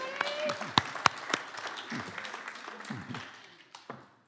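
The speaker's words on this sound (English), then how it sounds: "Give her a round of applause, everybody." An audience applauds with scattered, uneven clapping at a poetry brunch event, thinning out over a few seconds while voices talk over it.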